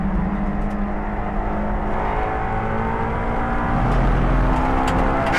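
A Honda S2000 at full throttle on the Dubai Autodrome race track, engine revving high toward 8,000 rpm with a shift up to fifth, a loud continuous in-car howl and no talk.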